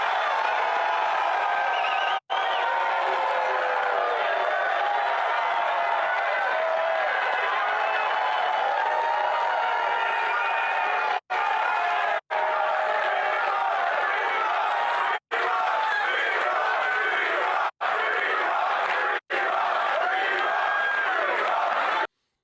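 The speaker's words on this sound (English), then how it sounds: "So the crowd was obviously really happy about that." A large crowd at a political speech cheers and applauds loudly and continuously, a dense roar of voices and clapping with brief cuts in between.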